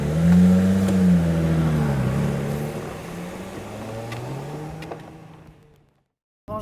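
A supercharged V6 in a Lotus Evora S revs close by, its deep, throbbing note swelling and sagging in pitch several times before it fades into near silence. A short burst of engine noise returns at the very end.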